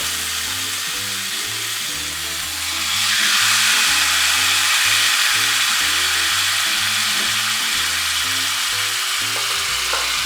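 Marinated ribeye steaks hit a hot pan and burst into a loud, steady, hissing sizzle that swells after a quiet start and holds strong to the end, with a low tonal background underneath.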